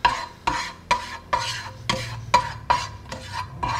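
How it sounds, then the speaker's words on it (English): Omelet mixture of egg, coconut and garlic being stirred in a pan, a utensil scraping and knocking about eight times at a steady half-second rhythm, fairly close and clear with no talk. "Mix that round a little bit."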